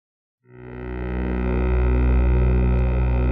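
A granular resynthesis virtual instrument's synthesized pad swells in after a short silence, a thick, sustained drone with rich layered harmonics and a low rumble, steady and loud with no voices.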